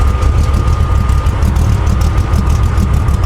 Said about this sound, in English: If y'all hear that, that's my trans cooler.